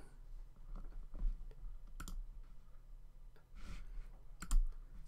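A computer mouse gives a few sparse, faint clicks over a quiet room hum, with single clicks and quick pairs spread across the stretch.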